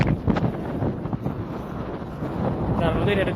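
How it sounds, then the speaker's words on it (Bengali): Strong wind blows along a riverbank, roaring and buffeting the microphone in uneven gusts, with voices talking underneath. "অনেক বাতাস।"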